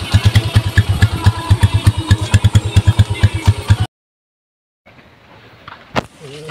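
A motorcycle engine idles in a steady loud clatter of rapid pulses just after its carburetor was cleaned and the air cleaner refitted, then cuts out to silence, followed by faint background noise and a brief sharp knock.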